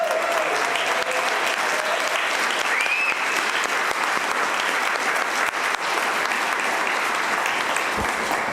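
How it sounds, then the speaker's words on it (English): An audience at an annual meeting bursts into sustained, dense applause for Janet, loud and steady throughout with no talking. "How about a nice round of applause for Janet for doing a phenomenal job?"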